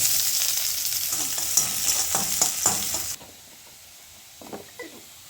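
Bay leaf, five-spice (panch phoron), dried chilli and onion hit hot oil in a loud, bubbling sizzle with stirring that cuts off abruptly after about three seconds, leaving quiet background and a few soft clatters.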